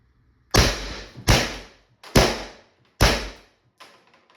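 Air pistols, an LL4D Pistelle X68 and a Beeman BP50, firing into ballistic gelatine: five sharp pneumatic shots in quick succession, each a loud crack with a short decaying tail, and the last one fainter.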